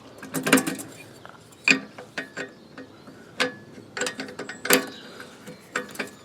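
The height-adjustment wheel on a lawn scarifier is loosened, giving a series of close, sharp mechanical clicks and ratcheting knocks in irregular bursts with short pauses between them.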